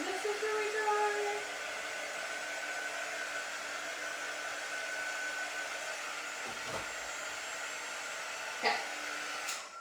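A hair dryer runs steadily up close, drying a wax-coated door round, with a couple of brief knocks near the end and a person saying a quick word.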